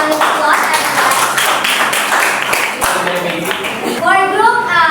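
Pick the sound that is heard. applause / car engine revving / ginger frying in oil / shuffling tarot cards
applause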